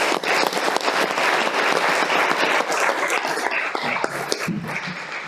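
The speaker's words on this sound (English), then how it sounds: "join me in a round of applause for our county treasurer" A crowd claps steadily for several seconds at a county fiscal court meeting, a dense patter of applause that tapers slightly near the end.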